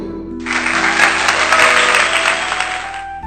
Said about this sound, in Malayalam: കിരൺ പറഞ്ഞത് കേട്ട് എല്ലാവരും കൈയടിച്ചു